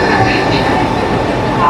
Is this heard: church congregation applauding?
no